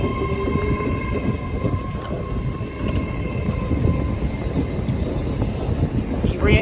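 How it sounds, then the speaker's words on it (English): Great Western Railway class 800 train departing Swindon station on the Swansea to London Paddington service, a steady loud rolling rumble and hum with faint rail clatter throughout, heard close from the platform. "Starting out now is the 1421 Great Western Railway service from Swansea to London Paddington."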